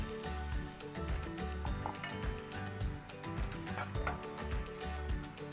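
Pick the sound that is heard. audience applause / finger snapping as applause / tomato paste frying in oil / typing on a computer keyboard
tomato paste frying in oil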